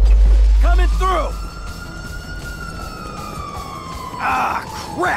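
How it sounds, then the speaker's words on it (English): Ambulance siren in GTA V sweeping in a long wail behind overlapping shouting voices, with a loud thud at the start and more voices near the end. "Oh, it's the ambulance!"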